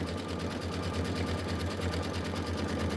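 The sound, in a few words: sewing machine stitching quilt block tack downs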